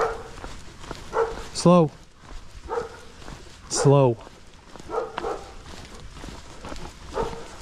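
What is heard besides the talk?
husky dogs being walked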